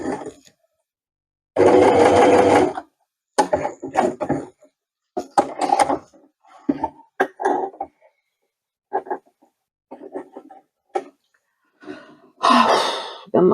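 A cover stitch sewing machine runs on travel jersey in short, loud bursts, one longer run near the start and another at the end. Softer clicks and handling noises fill the gaps, and nobody talks.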